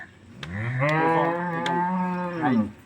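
A tall Holstein Friesian cow on a farm gives one long, loud, close moo that rises, holds steady and then trails off, heard alone without any talking.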